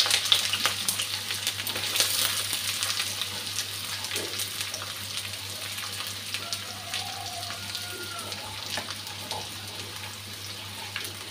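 Garlic and onion sizzle in hot oil in a pan, a steady bright crackling fry with occasional spatters and faint stirring clinks, close and continuous.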